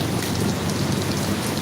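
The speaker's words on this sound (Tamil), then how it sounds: "ஃபுல்லாக செம மழை. நைட்லேருந்து விடிய விடிய பெஞ்சிக்கிட்டே தான் இருக்குது." Heavy rain pours down steadily and close by, a dense, continuous wash of drops with no voices over it.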